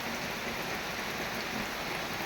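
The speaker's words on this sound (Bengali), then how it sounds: "অনবরত যদি ছ সাত দিন বৃষ্টি হয়" Steady rain after nearly a week of downpour, a dense even hiss of drops on surfaces that fills the short stretch without pause, moderately quiet and with no voices.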